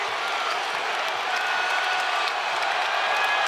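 A basketball arena crowd cheers and applauds without letup, a dense, loud roar of voices and clapping holding steady throughout.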